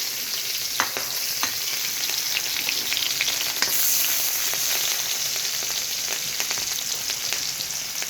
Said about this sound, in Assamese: মই পিঁয়াজখিনি দিলোঁ ধুনীয়াকৈ, জলকীয়াখিনিও দিলোঁ